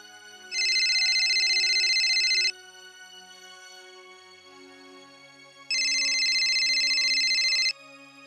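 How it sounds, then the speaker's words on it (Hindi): Two long electronic telephone ringtone bursts, each about two seconds, sound clearly as a call is placed, with a quieter gap between them and no talking. "ठीक कह रहे हो, करती हूँ फोन।"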